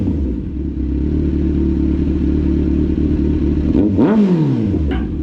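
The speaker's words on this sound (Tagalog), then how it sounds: "Oh, sarap ng tunog ng inline 4" A revving inline-four motorcycle engine holds a loud, steady note up close, then snaps through a sharp rise and fall in pitch near the end.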